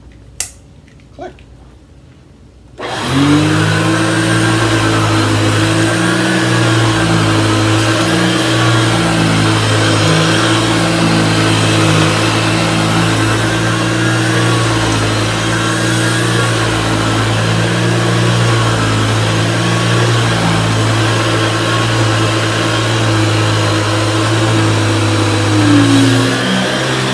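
Kenmore Power-Mate two-speed vacuum power nozzle switches on with a click and runs in a steady, loud motor hum with a brush whir, holding evenly to the end.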